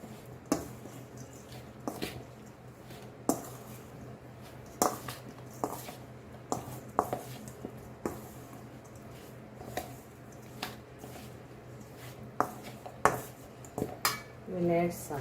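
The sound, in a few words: mixing raw mango pickle in a pot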